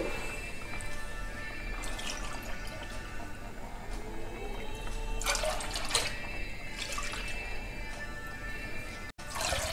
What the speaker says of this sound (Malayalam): നാല് കപ്പ് വെള്ളത്തിന് രണ്ട് കപ്പ് പാലൊഴിച്ചു.